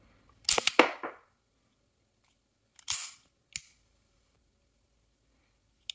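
A pistol's trigger is pulled with a dummy round loaded: sharp, close mechanical snaps and clacks in a quick cluster, then two more single clicks and a faint last tick, with silence between.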